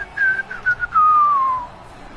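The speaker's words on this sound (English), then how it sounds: "And the whistle signals an offside." A single referee whistle blows in NHL 19 to call offside, a bright sliding tone in short bursts then one longer falling blast, loud and alone.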